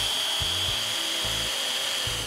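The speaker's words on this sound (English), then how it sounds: "you get ready to drill, two hands on," A power drill bores into wood in faint, rhythmic bursts over a steady background hiss, with no talking.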